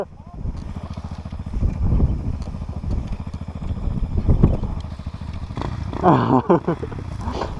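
A KOVI Advance 250 supermoto motorcycle revs nearby in bursts of throttle, its engine note rising and falling, with shouting voices and brief clattering over it.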